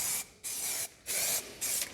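Aerosol can spraying red primer paint onto a car panel in light coats, four steady hissing bursts separated by short pauses, close and alone.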